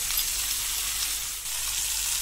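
Vegetables fry in hot oil with turmeric and salt for a Bengali vegetarian curry, a steady, close, bright sizzle with a slight dip midway and no talking.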